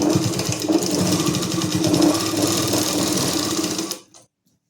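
A sewing machine runs steadily while stitching salwar fabric, giving a loud continuous motor whir with a rapid needle chatter for about four seconds before it stops abruptly into silence.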